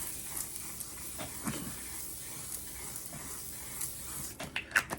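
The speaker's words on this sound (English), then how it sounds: "Now what I want to do is spray it down." Soft, close hissing of a spray mist, with a few quick spritzes near the end, quiet against steady room noise.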